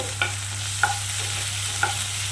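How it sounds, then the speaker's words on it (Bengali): Chopped onion frying in hot oil is stirred with a spoon, three brief scraping strokes over a steady low sizzle, close up, with no voices. "এবারে আমি প্রথমে পেঁয়াজ কুচিটা এর মধ্যে দিয়ে দেবো দিয়ে বাড়িয়ে হালকা করে নাড়াচাড়া করব"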